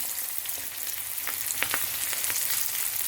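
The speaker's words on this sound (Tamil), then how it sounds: "இந்த சின்ன வெங்காயத்தை இந்த எண்ணெய்க்கு போடுறேன்" Small shallots, pre-mixed with salt, hiss and crackle as they hit hot oil in a pan, a steady close sizzle with scattered sharp pops and no talking.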